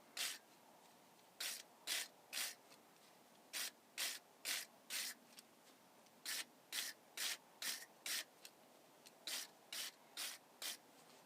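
A wire brush scrubs a metal fuel pump part on a John Deere 310, in short rapid strokes grouped into bursts of two to four, each a harsh bright scratch, close and loud against a quiet background.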